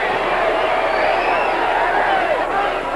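A wrestling crowd fills the Coliseum, standing and chanting from every corner, a dense, steady roar of voices that stays loud and close throughout with no single voice standing out.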